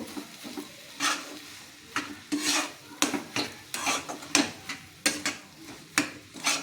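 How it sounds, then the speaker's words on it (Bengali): A potato and bread cutlet filling is fried in a pan with a spatula scraping repeatedly against the metal in a steady rhythm of strokes over a soft sizzle, close up and with no talking. "দিয়ে এবার পুরটাকে বেশ কিছুক্ষণ ধরে ভালো করে আমি একটু পুরটাকে ভেজে নেব"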